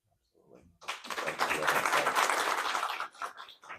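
An audience applauds the panelists at a morning panel discussion: a sustained burst of clapping swells quickly, holds steady for about two seconds, then fades out.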